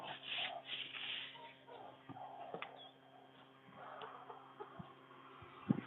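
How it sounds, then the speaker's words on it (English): Faint, soft clucking of chickens at a distance, scattered murmurs over a quiet background with a few light knocks. "I hear chickens."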